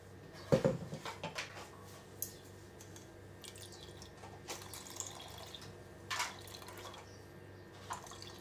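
Freshly blended homemade sugarcane juice is strained into a vessel, giving faint, sporadic liquid drips and trickles with a few soft clinks in a quiet kitchen.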